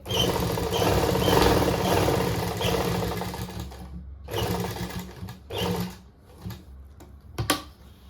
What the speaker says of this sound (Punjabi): ਮੇਰੀ ਮਸ਼ੀਨ ਵੈਸੇ ਆਵਾਜ਼ ਥੋੜੀ ਜ਼ਿਆਦਾ ਕਰਦੀ ਆ